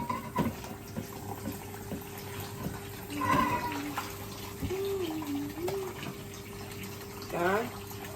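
A tap runs steadily while a child washes their hands, with water splashing faintly under an adult's and a voices and a low background hum.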